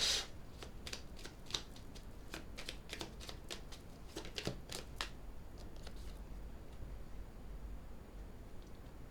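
Tarot cards are shuffled and laid out on a table, a run of crisp riffling snaps and soft slaps close up, thinning into quiet handling.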